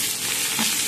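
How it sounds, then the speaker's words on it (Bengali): Potatoes frying in hot oil in a pan, a dense, even sizzle close by for a brief moment, with no voices present. "আলু ভাজা করে তুলে নিয়েছি।"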